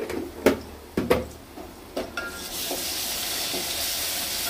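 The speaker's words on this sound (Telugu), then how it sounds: "నేను ఇప్పుడు మనం జింజర్ గార్లిక్ పేస్ట్ అయితే యాడ్ చేసేద్దాం 1 స్పూన్" Ginger garlic paste dropped into hot oil with reddened onion, giving a few sharp clinks of a spoon against the pan, then a steady loud sizzle and hiss of frying while it is stirred.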